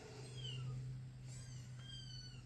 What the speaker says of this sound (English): The kittens are awake.